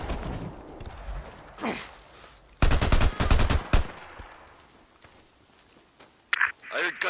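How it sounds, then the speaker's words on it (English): Gunshots ring out in the video game Days Gone: a loud burst of rapid fire in the middle, with quieter scattered sounds and a few sharp shots near the end. "I heard gunshots."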